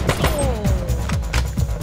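Rapid gunfire from the Major Mayhem video game crackles in dense bursts over nearly two seconds, with steady loud shots and booming thuds layered throughout.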